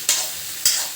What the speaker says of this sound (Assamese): মই গোটেইখিনি মছলা দিয়াৰ পাছত ইয়াতে মাংসখিনি বহাই দিছোঁ।